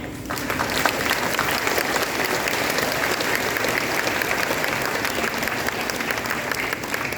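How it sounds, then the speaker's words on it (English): A crowd applauds at an 8th grade promotion ceremony, the clapping starting abruptly and holding steady and dense for several seconds with no speech. "please help me in offering them a round of applause"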